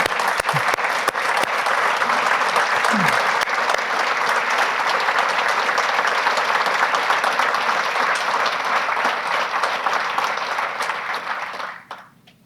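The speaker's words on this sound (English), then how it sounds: "Please join me in applauding Lolly's service" An audience at a chamber of commerce annual meeting applauds loudly and steadily for about twelve seconds, the clapping dense and sustained before tapering off sharply at the end.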